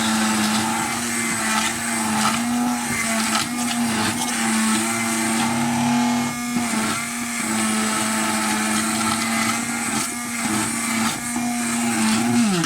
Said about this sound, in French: Là maintenant je vais pouvoir commencer à mixer ma sauce.